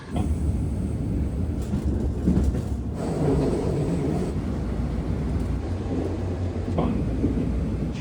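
Washington DC Metro train rumbling steadily around Dupont Circle Station, a loud continuous low roar with some brief clatter, no talk heard.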